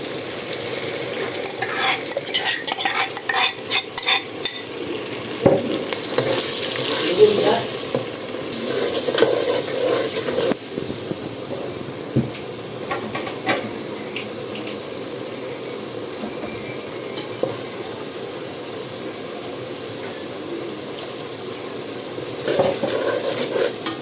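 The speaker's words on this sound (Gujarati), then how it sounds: "હવે મસાલાને બરાબર હેકાવા દેવાનો છે પછી તમને આગળ બતાવું પાંચ દસ મિનિટ હેકાવા દેવાનું છે" Spice masala with onions and tomatoes fries in a pot for shrimp biryani, giving a low continuous sizzle with occasional stirring scrapes and clinks, plus a few splashy water-like bursts, fairly faint throughout.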